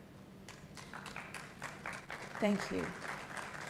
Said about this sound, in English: If you are clapping, clap well.